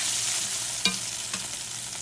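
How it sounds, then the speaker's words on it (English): A spatula scraping browned beef bits off the bottom of a hot pan, with two distinct scrapes over a steady, close frying sizzle. "get all your little bits and pieces off of the bottom of that pan"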